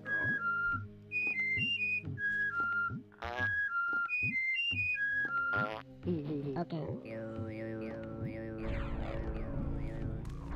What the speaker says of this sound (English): can I whistle from Elam's back?